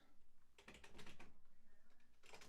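Rapid, close laptop keyboard typing in uneven bursts of clicks, quiet overall, with short pauses between runs of keystrokes.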